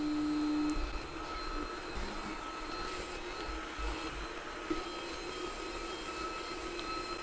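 A Creality Ender-3 V3 3D printer idles with its cooling fans running, giving a steady, moderately quiet whir with faint higher tones and small mechanical ticks throughout.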